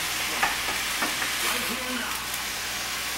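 Ground turkey browning in a frying pan under a loud, constant sizzle, with a few soft scrapes and taps of a spatula as the meat is turned.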